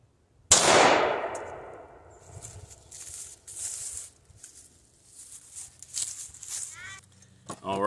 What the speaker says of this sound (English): I'm using a 9mm 115 grain full metal jacket target round. I'll be shooting from 7 feet away.